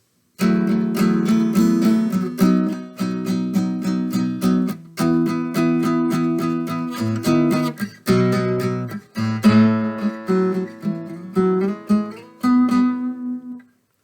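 A guitar plays a rhythmic strummed phrase, chords struck in a steady pattern with short pauses and a final ringing chord, alone without talk.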